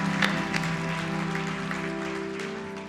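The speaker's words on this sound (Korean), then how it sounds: "하나님께 영광의 박수 올려드리겠습니다" Applause from a church congregation at a Sunday worship service. Dense clapping rolls steadily across the full three seconds and fades a little toward the end, with an organ-like sustained tone held underneath.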